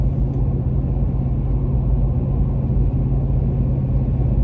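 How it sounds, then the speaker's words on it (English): A pickup truck carrying a camper rolls down the road, heard from inside as a loud, steady low engine and road rumble with no breaks. "I just love driving this truck and camper"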